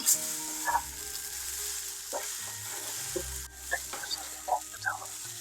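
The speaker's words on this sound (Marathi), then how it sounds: "आपल्याला सर्व सारण जे आहे ना ते लो फ्लेमवर फ्राय करायचे" Pea kachori filling fries over a low flame with a soft, quiet sizzle, punctuated by occasional light scrapes and taps of a spoon stirring it in the pan.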